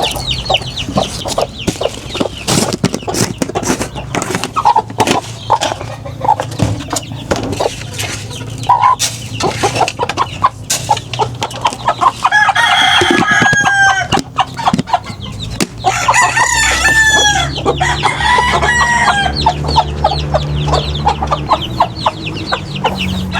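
Basilan giant chickens with week-old chicks cluck loudly and continuously at close range, with roosters crowing repeatedly over the flock's chatter.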